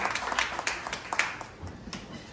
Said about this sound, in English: How about a nice applause for the park board?